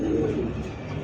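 Pigeons, male and female, cooing close by in a brief, soft, throaty burst with no talk over it.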